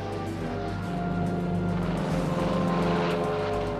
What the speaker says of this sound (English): hundreds of giant Boeing B-29 superfortresses, the state-of-the-art in strategic bombers, were taking off from these island airstrips to bomb Japan